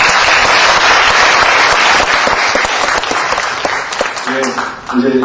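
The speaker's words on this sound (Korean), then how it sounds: "여러분들의 격려의 박수 부탁드립니다." A hall audience at a university debate competition final gives sustained, dense applause of encouragement, loud and steady throughout, thinning slightly near the end.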